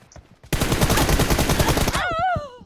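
Close, loud burst of rapid automatic gunfire from the mobile shooter PUBG Mobile, about a second and a half of sustained shots, followed by a short ringing, warbling tail.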